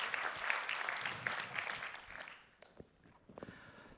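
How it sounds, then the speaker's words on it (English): Audience applause at an AI summit research track, a dense crowd clapping that fades out after about two seconds, leaving a few scattered claps and footsteps. "Please give him a big applause."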